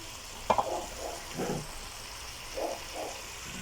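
Brined chicken browning in a pot as its liquid cooks off, giving a soft steady sizzle with a few faint stirring knocks, quiet and close.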